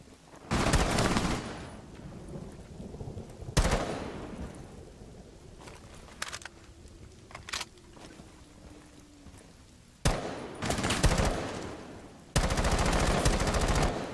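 Automatic rifle fire in Rainbow Six Siege comes in loud, dense bursts separated by quieter stretches with a few single shots, and the final bursts are sustained and heavy.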